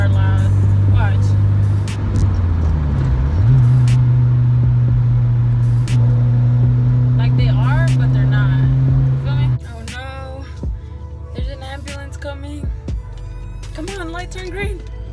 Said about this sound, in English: Not even the downshifts are loud.